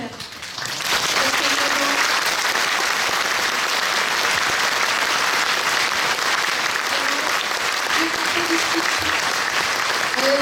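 An audience applauds actors after a theatre performance of wartime testimonies, steady dense clapping that swells in within the first second and holds loud and continuous throughout, with a few faint voices underneath.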